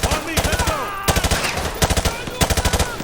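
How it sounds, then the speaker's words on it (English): Rapid bursts of automatic gunfire from Call of Duty: Modern Warfare 2 rattle out in three or four loud clusters of sharp shots, with brief gaps between them. "Shoot a few more of the bad guys."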